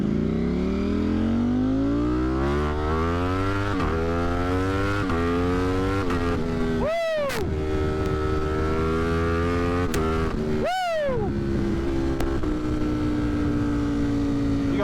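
A 200+ hp motorcycle with a smaller front sprocket accelerating hard, its engine rising repeatedly through the gears with rapid shifts, loud and close, with sharp exhaust pops and crackles on the shifts and the overrun.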